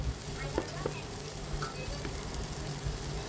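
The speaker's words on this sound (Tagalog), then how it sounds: "igisa na natin yung ating bawang, sibuyas, at saka yung ating luya" Garlic, onion and ginger sauté in hot oil for a simple ramen, giving a steady, close sizzle with a few soft stirring knocks and no one talking.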